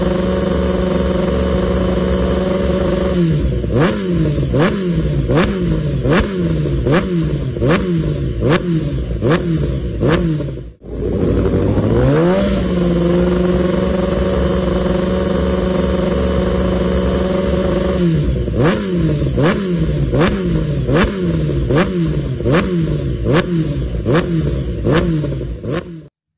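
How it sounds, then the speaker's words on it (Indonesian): A Honda CBR1000RR-R World Superbike race engine, loud and close, blipped repeatedly in sharp rhythmic bursts, with a brief drop and rising rev near the middle. "ini suara dari Honda CBR 1000 RRR yang digunakan di ajang World Superbike"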